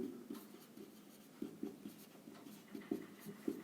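A pen writes on paper while solving a school maths problem, with soft close scratching strokes and occasional sharper taps in an irregular rhythm, quiet and alone.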